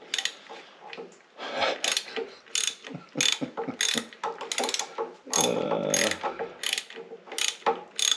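A socket wrench with an extension tightening a bolt clicks out a rapid ratcheting rhythm in repeated short strokes, close and fairly loud, with brief pauses between the pulls.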